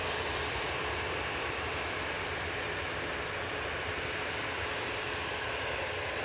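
EasyJet airliner departing Manchester Airport for Amsterdam, a steady, loud, broadband engine roar that holds throughout without fading, with no voices.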